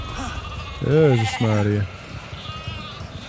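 Sheep bleat in the video game The Alters, two long wavering calls close together, loud and near, with a voice exclaiming briefly before them and low ambient noise after.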